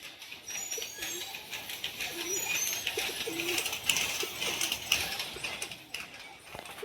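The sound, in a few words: pigeons cooing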